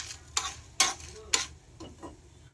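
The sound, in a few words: stirring dry chillies, cardamom and cinnamon in a dry pan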